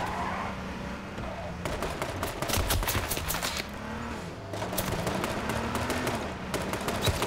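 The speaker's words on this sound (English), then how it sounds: "Somebody was shooting from down here, long range." Long-range gunfire in the H1Z1 battle royale game, rapid bursts of distant shots crackling in two stretches over a steady background rumble, with a person's speech in the mix.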